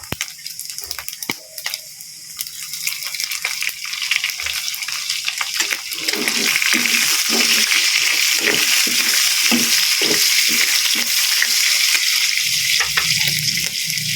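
Browned garlic sizzles in a pan and then onion goes in, and the frying grows into a loud, steady, crackling hiss with frequent stirring scrapes, close by.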